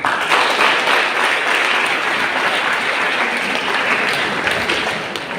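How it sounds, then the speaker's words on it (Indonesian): An audience at a school ceremony in a seminary hall gives the students a loud, sustained round of applause, dense clapping without talk that slowly tapers at the end. "Tepuk tangan buat anak siswa dulu."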